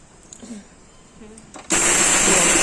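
A kitchen mixer grinder pulses ingredients coarsely for Maharashtrian sabudana vada, switching on abruptly partway through with a loud, steady whirring roar after a quieter stretch of room noise.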